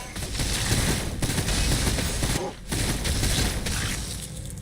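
Twin-linked weapon fire in the Warhammer 40K Battlesector strategy game, a dense sustained barrage of rapid shots and impacts with a brief gap midway, loud and continuous throughout.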